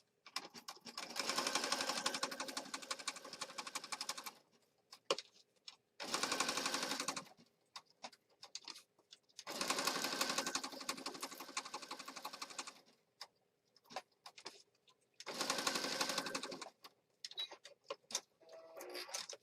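A sewing machine stitches around the outside edge of a mixed-media journal in several long rattling runs with short pauses between them, close and clear with no talk.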